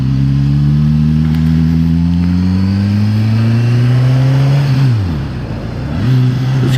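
A 2016 Suzuki GSX-S1000 motorcycle engine climbs steadily in revs on a freeway, loud and close, then drops sharply around the five-second mark during a shift before pulling up again.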